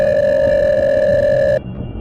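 An electronic telephone tone rings steadily for a second and a half, loud and clear, then cuts off abruptly, leaving a quiet background.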